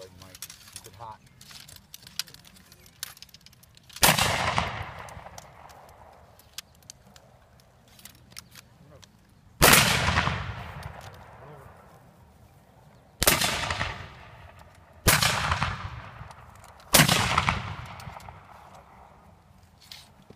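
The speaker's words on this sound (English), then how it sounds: "It went off. It just didn't have a lot of powder" Black powder guns fire five loud, booming shots spaced several seconds apart. Each shot rings out with a long reverberant decay, and voices are audible between the shots.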